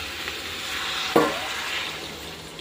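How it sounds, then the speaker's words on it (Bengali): Hot water poured into a pan of frying chana dal fritter curry gives a sudden loud splash and hiss that settles into a steady sizzle, close up with no talk. "এখন দিয়ে দেবো গরম জল"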